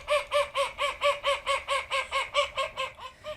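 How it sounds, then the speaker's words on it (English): Urban London ducks quack in a rapid, regular series of about fourteen loud, raucous calls, evenly spaced and close, with no talking over them. "And this one is the urban quacking."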